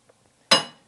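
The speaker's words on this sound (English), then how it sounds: "that's the sound of a nail being driven through wood" A single sharp metallic strike rings out and decays quickly as a hammer drives a nail through wood, after a moment of near silence.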